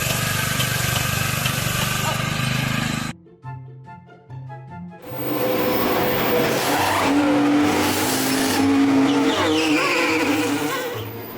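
A Formula One race car roars past with squealing tires, loud and close, with a brief dip in the middle before the engine noise surges back over a steady background.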